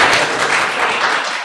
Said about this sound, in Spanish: un aplauso para Ceci